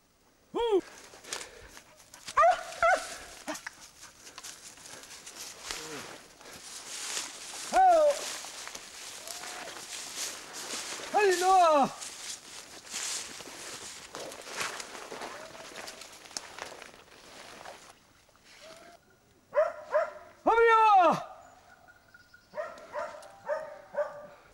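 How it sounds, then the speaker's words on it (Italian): Hunting dogs bark while tracking wild boar, sharp yelping barks repeating in irregular bursts at a moderate distance, with quieter stretches and rustling between them. "Ora laggiù l'abbaiata è buona."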